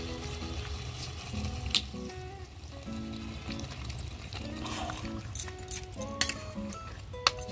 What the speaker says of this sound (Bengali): এখন আমি সামান্য জল দিয়ে দেবো